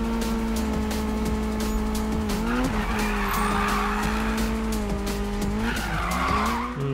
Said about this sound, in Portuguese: Desnecessário esse drift agora.